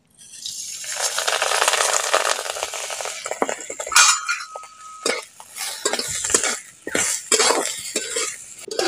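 Washed raw rice stirred with a metal spoon as it fries in ghee in a wok-style pan, near and busy, with scraping and clinking strokes in an uneven rhythm and a soft sizzle underneath.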